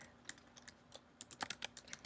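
Typing on a computer keyboard, a run of light, irregular key clicks, sparse at first and then quicker, close but quiet over a faint steady hum, with no talking.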